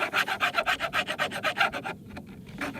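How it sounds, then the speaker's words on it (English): A hand rasp files the unfinished edge of a wooden deck board in about fourteen steady, rhythmic strokes, close and fairly loud, ending with a few lighter scrapes. "I'll take a rasp."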